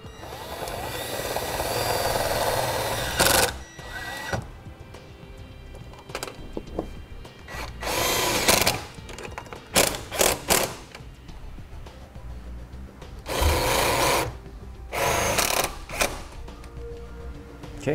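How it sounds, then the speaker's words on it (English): A quarter-inch driver runs sheet metal screws into metal while a trailer brake controller is installed on a 2012 Toyota, giving several short whirring bursts of varying length separated by pauses, close and with no talking. "it'll use a quarter inch driver to run them into the material right here"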